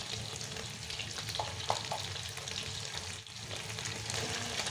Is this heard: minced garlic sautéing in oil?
yes